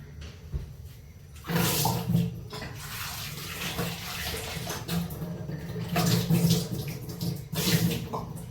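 Pond water being poured, a steady splashing rush that starts after a brief quiet and runs on with swelling surges, fairly close and alone.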